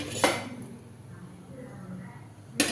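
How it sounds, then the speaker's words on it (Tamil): A metal kadai is set down on the gas stove with a sharp clank near the start and another at the end, close and distinct against a quiet kitchen background. "ஸ்டவ் ஆன் பண்ணி ஒரு கடாய் வச்சுட்டேன்"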